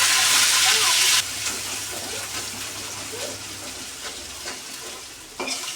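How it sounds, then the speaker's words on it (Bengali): Onion paste hitting hot oil with cumin seeds, starting with a loud sizzle that drops after a second to a steady frying crackle, with a brief louder burst near the end. "তেলের মধ্যে দিয়ে দেওয়া হলো এখন জিরে ফোড়ন, এখন দেওয়া হলো পেঁয়াজ বাটা"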